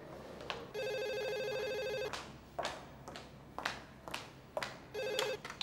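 A telephone rings indoors in two clear bursts of electronic bell trills, the second cut short, with quiet thumps and household movement between the rings.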